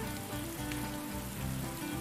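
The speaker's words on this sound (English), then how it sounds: "It's raining." Steady rain patters on a surface in the video game Atelier Ryza 2, a dense, even hiss with scattered drops and faint low tones beneath, continuous throughout.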